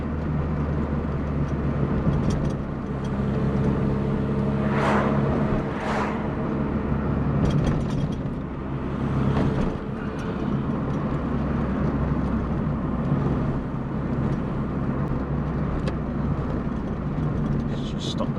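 A VW Polo Coupe, its engine just reassembled, drives along with a steady broadband road and engine rumble, a few brief tonal surges rising above the constant cabin noise throughout.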